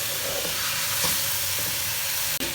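Onion and spice masala being fried in a pan for aloo chicken curry, a loud dense continuous sizzle and hiss heard up close, with faint stirring scrapes and a brief knock near the end.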